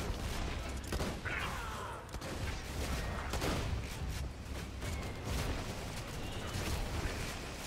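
Video game auto cannons in Borderlands 2 unleash rapid, rumbling bursts of fire mixed with explosions and mechanical clatter, dense and continuous throughout at fairly low volume.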